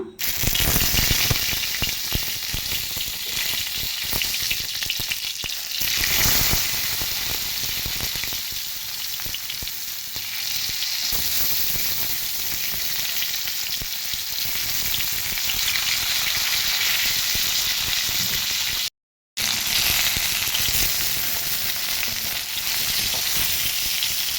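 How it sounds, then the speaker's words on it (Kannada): Okra (bhindi) pieces frying in oil in a pan, a loud, close and continuous sizzle with some occasional rattling and shifting and a short break near the end. "ಫ್ರೈ ಆಗುತ್ತಿದೆ"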